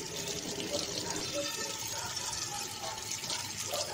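Tap water runs steadily into a sink while something scrubbed with homemade lemon abrasive soap is rinsed, a loud continuous splashing rush close by with a voice talking faintly underneath.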